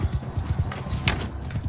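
Horse hooves gallop in the medieval combat game Mount & Blade II: Bannerlord, a quick, steady clip-clop rhythm heard up close through a tournament round.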